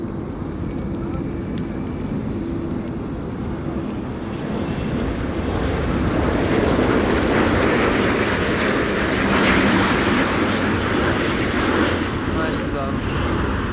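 Corendon Airbus A350-900, Spanish-registered, landing at a windy Amsterdam Schiphol with thrust reversers deployed: a broad, steady jet roar that swells toward the middle and holds loud, with a voice briefly speaking over it.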